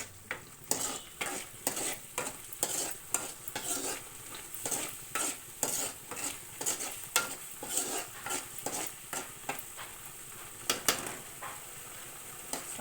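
Masala for a green chilli egg curry frying in oil, with rhythmic, evenly spaced stirring scrapes of a spoon against the pan over a continuous soft sizzle, close and fairly quiet.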